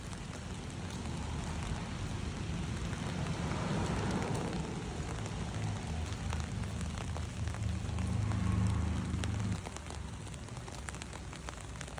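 Rain falling outdoors in Vaasa, Finland, a soft, steady hiss of drops on surfaces with a low rumbling undertone, heard at a distance and fairly faint, with no voices.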